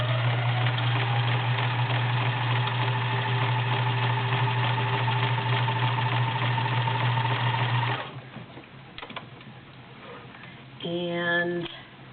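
A vintage convertible Kenmore sewing machine runs steadily for about eight seconds stitching a zigzag, a loud even motor whir with rapid needle rhythm, then stops, followed by quieter handling clicks and a brief burst of clicking near the end.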